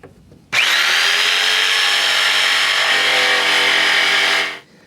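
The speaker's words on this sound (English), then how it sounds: "the best tool for me to use to remove that material is probably a jigsaw." A jigsaw cuts out material beneath an exterior door threshold, a loud continuous buzzing whir that starts abruptly, holds steady for about four seconds, then winds down.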